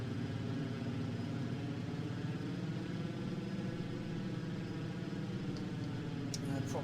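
Twin engines of a Ju-88 bomber in IL-2 Sturmovik drone steadily and evenly at moderate level, a continuous low hum with no breaks, with a voice speaking over it.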